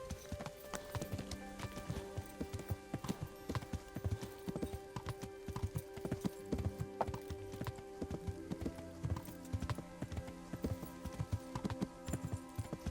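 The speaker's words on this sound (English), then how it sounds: "It is a neat sort of atmosphere when you're going up a mountain path on a horse with a torch in the dark." Horse hooves clip-clopping at a steady walking rhythm up a dark mountain path in Kingdom Come: Deliverance, with distinct close hoof strikes that continue throughout and a faint ambient background.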